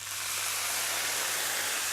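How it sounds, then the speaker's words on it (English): White wine sizzles loudly as it deglazes rice cooking in duck fat, a steady dense hiss that runs unbroken and close throughout, with a low hum underneath. "now I'm going to deglaze with a little bit of white wine"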